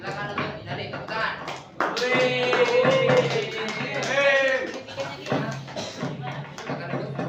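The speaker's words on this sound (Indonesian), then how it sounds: "nah tepuk tangan." Students clapping in a classroom during a lesson, a run of claps from a group under and between voices, with louder vocal sound in the middle.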